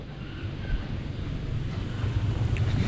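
Strong typhoon wind during the monsoon roars steadily and loudly, buffeting the microphone with a continuous low rush and no talk.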